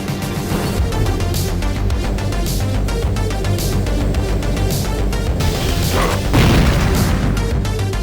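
A loud explosion in the video game Mace Griffin: Bounty Hunter, heard over dense game sound and music with a burst of low rumbling debris toward the end.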